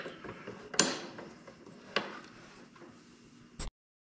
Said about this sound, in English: I'm going to flip it over, put it back in, and then just tighten up like 2 of them.